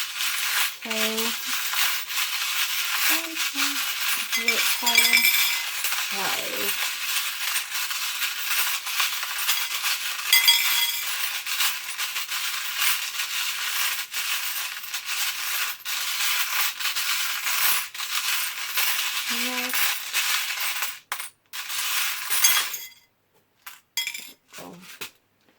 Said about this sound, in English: And lastly, we have some charms.